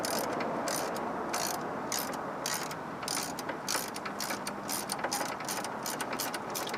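A ratcheting wrench works on a bolt on a 1998 Mitsubishi Eclipse Spyder GS during a clutch master cylinder job, giving a fast, steady run of close metallic clicks over a faint background hum.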